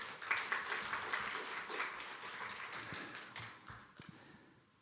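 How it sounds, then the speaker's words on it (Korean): Audience applause at a church school gathering, a dense patter of hand claps that holds steady and then gradually thins and fades over several seconds, with a few stray claps near the end. "여러분 박수 한번 하겠습니다"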